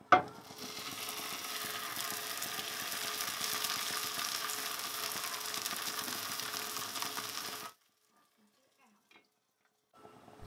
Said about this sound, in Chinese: 之后可以多翻几次面，这个饼很容易熟，烙个几分钟熟了就可以出锅了